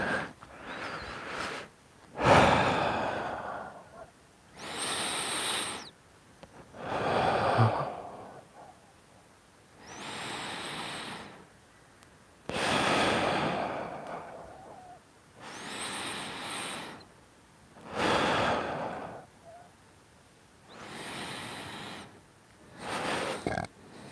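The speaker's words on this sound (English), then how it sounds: "do some breathing" Deep, loud breaths taken close up during a morning mobility and strength workout, about nine slow, rhythmic inhales and exhales with brief pauses between them.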